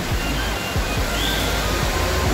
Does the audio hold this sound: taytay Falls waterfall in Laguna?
yes